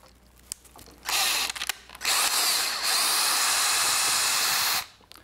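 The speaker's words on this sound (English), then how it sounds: "This is where we have to drill our hole to match the old existing hole." A power drill bores a hole through a sailboat tiller extension to line up with an old existing hole, whining loudly in two close bursts, the second held steady for about two and a half seconds before stopping.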